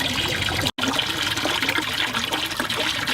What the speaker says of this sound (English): I have the tub being filled